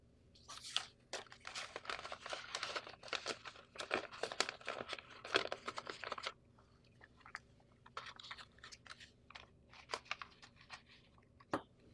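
A reclosable plastic bag crinkles and rustles as a distress signal kit is packed, in bursts of crisp crackling, busy for several seconds, then quieter with occasional sharp crinkles against a low hum.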